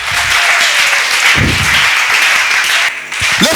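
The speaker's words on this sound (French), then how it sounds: "Est-ce qu'on peut acclamer pour le Seigneur?" Church congregation clapping and applauding in praise, a loud sustained wash of applause filling the room, with a few low voices mixed in before it fades near the end.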